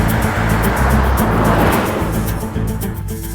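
Steady road rumble and broad tire hiss from a car driving at night, heard from inside or close by, with a continuous low drone throughout.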